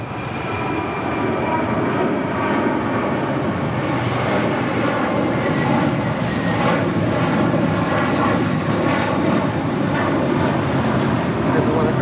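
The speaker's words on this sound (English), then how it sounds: "A321 now rolling down 25 right." An Airbus A321 rolls down runway 25 right at LAX as a steady, loud engine roar that holds throughout.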